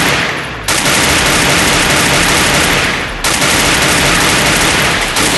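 Loud, continuous automatic gunfire in the Free Fire battle royale game, with rapid sustained bursts broken by two brief pauses and no talk over it.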